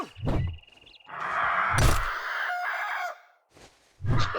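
A bird in the survival game 7 Days to Die gives a rooster-like crowing call, loud and close, with short thumps before and after.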